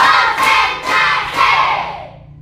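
A group of children claps together on a count during a classroom ice-breaking game, making three loud, evenly spaced bursts of clapping mixed with shouting voices, close and lively.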